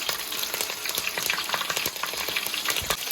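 Mustard seeds and green chilies sizzle and crackle in hot oil for a fish head curry, dense continuous frying with rapid pops up close.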